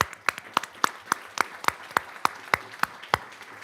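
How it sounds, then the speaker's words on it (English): Applause at a school board meeting from only a few people, mostly one distinct pair of hands clapping in a slow, regular rhythm of sharp, close claps over faint room noise. "Round of applause."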